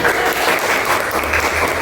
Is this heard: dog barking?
no